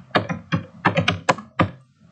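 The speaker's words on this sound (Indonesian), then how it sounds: "Lalu kita ketikkan lagi di sini karena ada dua petugas, kita ketikkan Puskesmas A." Keystrokes on a computer keyboard while entering text into an Excel spreadsheet, seven or so crisp, close taps in an uneven rhythm within about two seconds, with no voices.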